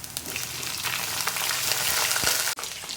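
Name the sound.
liver frying in oil with onion, garlic, ginger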